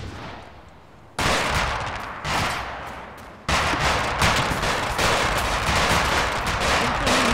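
A BMP infantry fighting vehicle fires in combat, with loud rapid bursts of heavy gunfire that start abruptly and then continue in sustained volleys, echoing close by.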